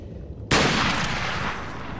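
Gunfire in Resident Evil 4: after a quiet moment a single loud, sharp shot bursts in close, then a long reverberating tail fades slowly with no voices over it.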